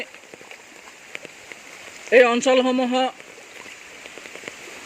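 Heavy rain patters in a village in the morning, a faint steady spatter of scattered drops throughout, briefly covered by someone speaking in the middle.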